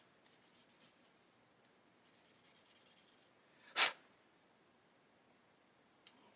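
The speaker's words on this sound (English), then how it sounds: "Now we have a sprue nib on there, so we're going to sand that off." Sanding a sprue nib off a plastic part from a 1/32 Lancaster B.III bomber model kit, heard as quiet rhythmic back-and-forth rasping strokes in two short bursts, followed by a single louder scrape.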